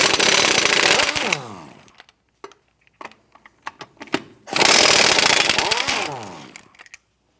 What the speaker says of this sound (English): Using a 21mm socket, let's go ahead, loosen and remove these lug nuts.